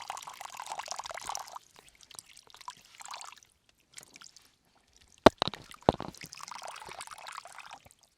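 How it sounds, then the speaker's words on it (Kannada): Water trickling and splashing at the top of Kolikamala hill, heard in intermittent bursts with quiet gaps, including a couple of sharp close splashes partway through. "ಇಷ್ಟು ಎತ್ತರ ಪ್ರದೇಶದಲ್ಲಿ ನೀರು ನೋಡಿ ಹೇಗೆ ಬರ್ತಾ ಉಂಟು"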